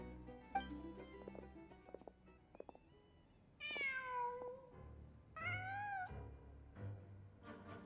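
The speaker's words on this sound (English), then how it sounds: "Just a cat." In Genshin Impact, a cat gives two drawn-out, wavering meows over soft game ambience and faint clicks, moderately close with quiet gaps between the calls.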